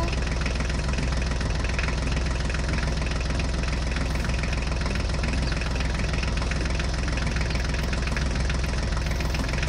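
A Swaraj tractor engine running continuously at a steady idle-like chug, loud and close, with a constant rumbling throb and no pauses for the full length.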